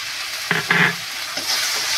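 Grated tomato frying with ground spice paste gives a soft sizzle broken by a couple of quick stirring scrapes close by.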